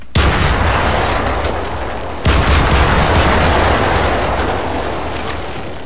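Gunfire from a sniper rifle in the Minecraft With Guns video game: two sharp, loud shots with abrupt onsets about two seconds apart, each followed by a dense, rumbling, reverberant tail, with no voices.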